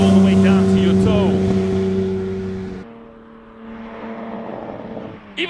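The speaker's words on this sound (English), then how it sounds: "You can listen to the V8 how it idles." An old-school 5.7-liter V8 idles with a steady, rumbling harmonic drone, loud and close at first, then dropping to a quieter, lower idle partway through as voices and crowd murmur mix in.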